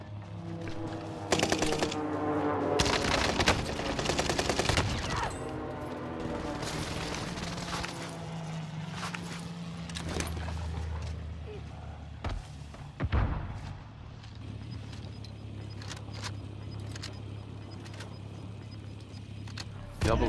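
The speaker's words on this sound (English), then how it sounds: "Enemy precision airstrike." Precision airstrike in the Call of Duty Warzone video game, a dense barrage of explosions and rapid gunfire over a low rumble, with bursts and thuds at irregular intervals and voices talking underneath.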